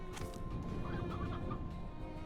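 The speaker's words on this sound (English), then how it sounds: "There's chickens here." Chickens cluck softly in the Slime Rancher 2 video game, a few quiet clucks over a steady bed of game music and ambient noise.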